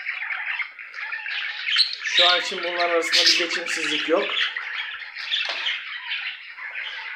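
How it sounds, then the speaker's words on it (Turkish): Pet budgerigars chirp and squawk in a home breeding cage, a busy, continuous chatter of close, bright calls with someone talking over them in the middle. "az önce sağda önde olan erkek muhabbet kuşu, ikinci kuluçkanın kardeşi bu kuşlarda"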